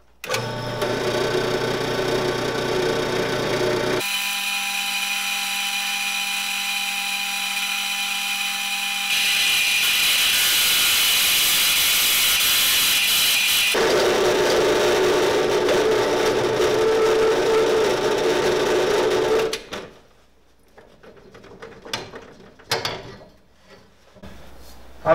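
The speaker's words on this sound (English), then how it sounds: "So now we're gonna take it to the drill press and get that hole drilled." A power drill bores a hole for a forced-air forge burner, a loud steady whine that shifts pitch in stages, then cuts out into scattered knocks and handling clatter.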